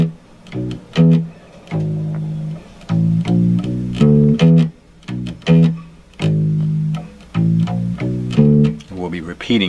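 Bass guitar plays the verse riff from a song, as a repeating pattern of short plucked notes with brief gaps, clear and upfront with no talking.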